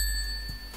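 A notification bell sound effect rings once, a bright sustained metallic ding like a bicycle bell, loud and close and fading over a fraction of a second, with no voices.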